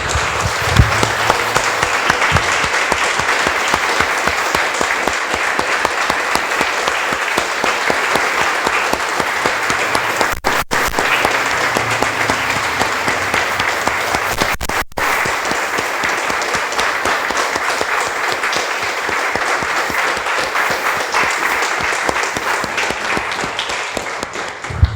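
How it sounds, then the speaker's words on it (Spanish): A church congregation claps loudly and continuously, a dense, sustained applause from a full room that holds steady for the whole stretch with only brief dips. "Damos un aplauso, hermanos."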